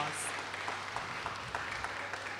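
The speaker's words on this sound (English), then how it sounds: "I think we should give that young man for his decision to be responsible a round of applause" Faint, distant applause from a graduation ceremony audience, a low steady patter of clapping that stays soft and even for a couple of seconds.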